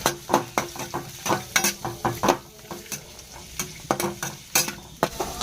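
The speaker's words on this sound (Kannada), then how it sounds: "ಇವನೇನು ಮಾಡಣ ಅಂದ್ರೆ ಸ್ವಲ್ಪ ಫ್ರೈ ಮಾಡಿ ಮಾಡ್ಕೊಬಿಡೋಣ" Dry fruits frying in ghee in a pan, with a light sizzle under frequent rhythmic clacks and scrapes of a spoon stirring against the metal, close and fairly loud.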